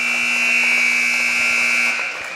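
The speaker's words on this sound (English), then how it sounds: "As the buzzer goes off." A basketball game buzzer sounds at the end of a girls' high school game. It is one loud, steady electronic tone that holds for about two seconds and then cuts off, heard close and alone.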